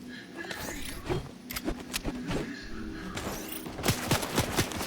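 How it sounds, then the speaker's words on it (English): Gunfire in the Fortnite video game crackles in scattered sharp bursts and pops through a busy game mix, with a voice talking now and then. "I got shot at from somewhere."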